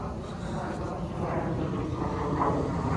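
An aircraft passes overhead outdoors, a steady broadband roar with a low rumble that holds evenly throughout, moderately loud and distant.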